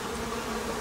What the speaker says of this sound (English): All these bees have returned home with honey